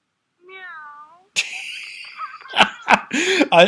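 A voice gives a drawn-out, wavering meow imitating a cat, then after a short pause comes loud laughter and animated talk.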